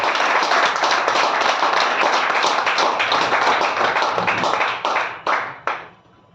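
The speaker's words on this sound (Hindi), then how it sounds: "हम अपने लिए तालियां बजा सकते हैं।" Audience members at a product meeting clap for themselves, a loud, dense burst of hand claps that keeps going for several seconds, then thins into a few last separate claps and stops.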